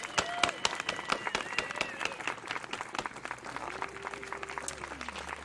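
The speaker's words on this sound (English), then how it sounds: "let's give ourselves a pat on the back and another round of applause" An audience at an annual meeting and celebration applauds, a scattered patter of claps beneath a voice and faint tonal sounds, fairly quiet and continuous throughout.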